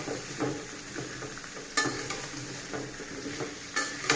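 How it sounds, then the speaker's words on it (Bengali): Papaya and potato pieces fry with turmeric in a pan, a steady sizzle broken by stirring scrapes and a couple of sharper utensil clinks, close up and without speech. "পেঁপে ভেজে নিচ্ছি, আর একটা আলু ভেজে নেব। একটু হলুদ দিয়ে দিলাম, হলুদ দিয়ে একটু ভেজে নেব।"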